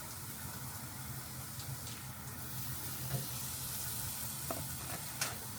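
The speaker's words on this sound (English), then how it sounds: "We're gonna sear them up." Big oxtails searing on a hot cooking surface before smoking, a steady, fairly quiet broadband sizzle and hiss that holds evenly throughout with a few faint clicks, heard alone.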